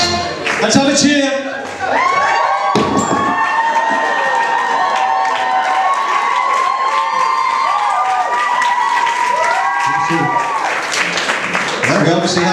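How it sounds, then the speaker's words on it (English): A studio audience cheers and applauds loudly on a dating show, with whoops and shouts over a bed of clapping that runs almost the whole time, while music plays underneath. "Let's have a cheer!"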